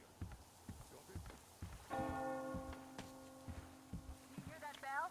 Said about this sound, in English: You hear that bell?